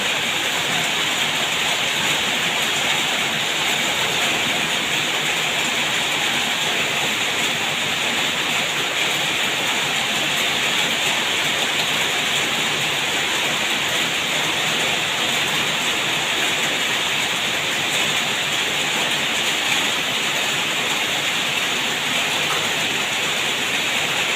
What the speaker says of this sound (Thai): เป็นแบบทางน้ำไหลเลยนะคะทุกคน